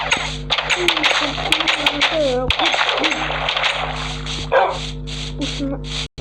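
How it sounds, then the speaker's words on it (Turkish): A dog barks several times amid busy Minecraft game sounds and clatter, with people talking over it. "Köpek ya o kurt değil."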